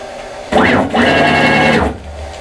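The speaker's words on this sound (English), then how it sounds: "But first let's move in the spindle." A machine spindle motor drives in before cutting rubber magnet for tweeters, a loud close whine that rises in pitch, drops briefly, then holds a steady tone for about a second before stopping.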